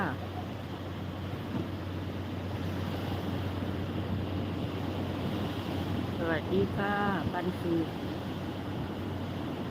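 Sea waves wash continuously under a strong sea wind that roars steadily across the microphone, with someone speaking briefly near the middle.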